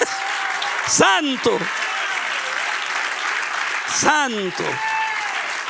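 A church congregation applauds for several seconds, a full crowd clapping steadily under a preacher's loud, pitched shouts that rise above it twice.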